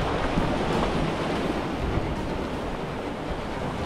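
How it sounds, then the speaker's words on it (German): Ocean waves break against rocks along a shore, a steady, dense wash of surf with wind buffeting the microphone, close and loud with no voices. "Wir müssen auf eine fette Welle warten."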